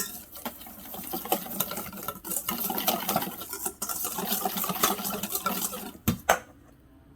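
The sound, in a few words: mixing pork chop marinade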